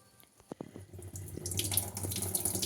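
Water is poured from a vessel over sago pearls to soak them, starting with a few quiet knocks and drips before a steady splashing pour builds and continues close by.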